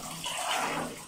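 Water for bathing splashes and pours briefly in a cold outdoor setting, a short, close gush of running water that swells then eases off.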